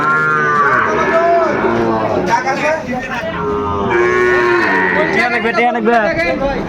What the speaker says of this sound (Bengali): 4টা শাহিওয়ালের বাচ্চা, ষাঁড় বাচ্চা